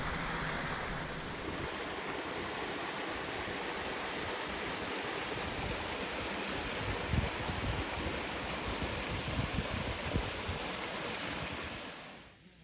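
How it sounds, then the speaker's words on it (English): Water rushing down a hidden waterfall and stream in Lancashire's Ribble Valley, a dense continuous roar that stays loud and even throughout before fading out at the very end, with no voices. "The sound of water is just bliss."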